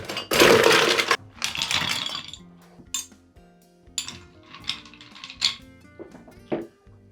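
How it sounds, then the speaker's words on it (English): Ice cubes dropped into a cocktail glass to chill it for a Sazerac, giving a loud rattling clatter at first, then several separate clinks and knocks of ice against glass at close range, with no talking. "I'm gonna go ahead and chill that glass down by adding ice to it"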